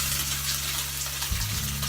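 Tofu strips sizzle in a frying pan on a stovetop burner, a steady broadband hiss with a low hum underneath and a brief shift in texture partway through.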